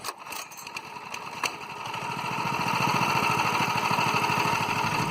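Coleman CT200U EX minibike with a stock engine and torque converter, starting with a sputter then settling into a loud, steady, close single-cylinder putter that rises to a fuller running drone.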